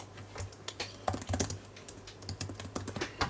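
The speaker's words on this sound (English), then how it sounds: "the keyboard feels alright, the keys are kind of close to each other, not close to each other, and it's membrane obviously, like all laptops" Typing on the membrane keyboard of a Lenovo 100e Gen 2 laptop: quiet, fairly close, irregular clusters of soft key clicks and taps continuing throughout, with no voices.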